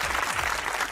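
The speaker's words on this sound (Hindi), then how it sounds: "तालियां।" Brief burst of studio audience applause on a Pakistani comedy talk show, dense steady clapping filling the whole short moment.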